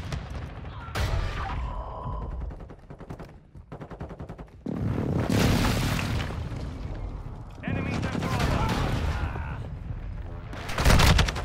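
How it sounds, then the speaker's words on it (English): Precision airstrike explosions in Call of Duty Modern Warfare 2 multiplayer, loud broadband blasts arriving in several bursts over about eleven seconds, with voices talking in between. "Friendly precision airstrike inbound"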